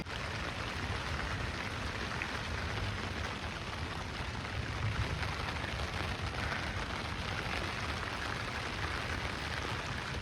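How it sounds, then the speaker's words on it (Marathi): Heavy night rain drums on a tarp shelter with a dense, constant patter and hiss that is fairly faint and steady the whole time. "रात्रीचा भरपूर पाऊस आलाय. इतका पाऊस आलाय ना मित्रांनो. बघा तुम्ही पाल वाजत आहे"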